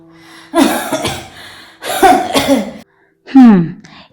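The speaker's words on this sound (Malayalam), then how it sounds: "ഇവിടെ കിടന്നതുകൊണ്ട് ഇപ്പോ ഈ ചുമ മാറും" Several harsh, close coughs in bursts, with a rasping throat-clearing sound toward the end; no other sound between them.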